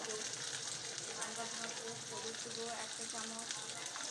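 Ginger, garlic, coriander and cumin fry with browned onion in hot oil, giving a steady, close, continuous sizzle that holds evenly throughout.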